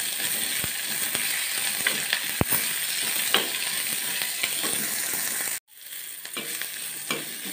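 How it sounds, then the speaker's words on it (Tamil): Onion and garlic sautéing in a pan for a Tamil drumstick tamarind curry, a steady close sizzle with scraping stir clicks, briefly cut off near the end before resuming more quietly. "வெங்காயம் பூண்டு நல்லா வதங்கிடுச்சு."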